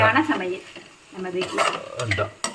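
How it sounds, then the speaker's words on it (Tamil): Coconut is stirred into a cooked dish in a hot pan, with a spoon scraping in uneven strokes over a soft sizzle and a sharp clink near the end. A voice speaks intermittently over the stirring. "தேங்காய் போடுறீங்க ஒரு கிளறு கிளறி எடுத்து வச்சிட வேண்டியது தான்"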